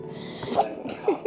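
A quick, short sneeze from a Chihuahua, close and fairly soft, followed by a brief snort.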